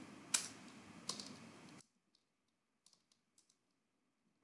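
A computer keyboard being typed on during a Python coding session, a few loud close clicks and then a run of sparse faint keystrokes in near silence.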